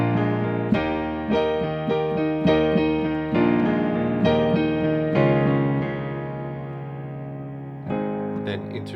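Solo piano plays the pre-chorus of a song, with repeated chords and a left-hand bass line ringing with sustain, close and unaccompanied.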